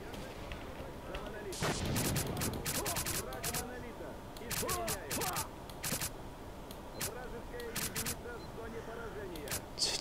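Gunfire with armour-piercing rounds in the shooter game S.T.A.L.K.E.R. Call of Pripyat: several loud rapid bursts of automatic shots come in clusters, mixed with talk and shouting throughout.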